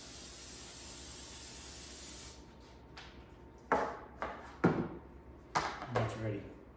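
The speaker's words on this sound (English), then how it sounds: "we're going to respray our container." Oil sprayed into a bread dough container, a continuous hiss for about two seconds, then a few short knocks and bumps as the container is handled nearby.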